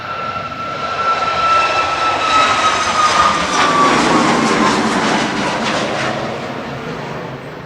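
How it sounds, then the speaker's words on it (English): A Ryanair jet departs Manchester Airport with a loud, continuous engine roar that swells to a peak and then eases slightly as the plane climbs away, heard at a distance, with a high whine running through it and no talking. "Ryanair departing."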